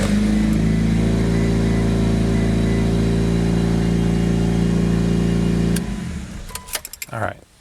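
A Mitsubishi Evo 8 engine runs at a steady, loud idle for about six seconds and then cuts off, leaving a few short clicks and rattles.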